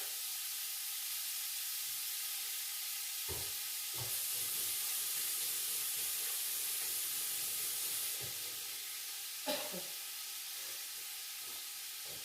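Onions for lentil soup sautéing in a pot, a steady broadband sizzle and hiss running throughout with a few brief clinks and knocks, no talking.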